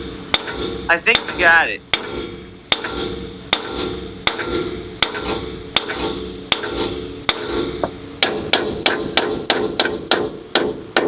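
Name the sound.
hammer striking lower ball joint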